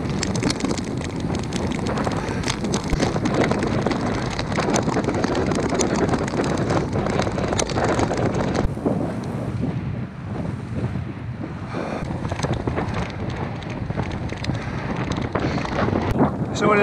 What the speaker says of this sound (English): I've been heading south for about 10 miles into the wind, so we're going to have a crosswind for a while.